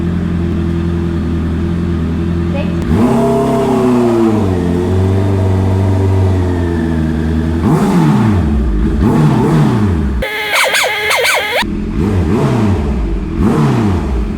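Honda CB650R big bike engine idling and blipping its throttle repeatedly while parking in a car slot, close and loud, with a steady drone broken by rising and falling revs and several sharp rev bursts toward the end.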